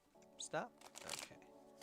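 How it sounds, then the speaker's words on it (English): Tarot cards being shuffled by hand in quick riffling bursts, close and soft, with faint talk underneath. "tell me when to stop shuffling"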